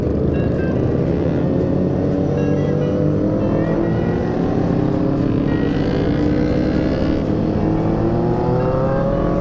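A Kawasaki Z900RS motorcycle engine roars steadily up close, revving and climbing in pitch, with a rough crackling, popping exhaust throughout.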